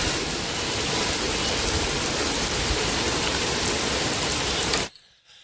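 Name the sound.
rain falling in Feira de Santana, Bahia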